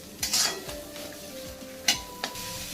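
Sliced onions roasting in a dry pan for a village-style chicken masala, a faint sizzle under sharp metallic clinks and scrapes of a spatula stirring against the pan, close and quiet, no talk.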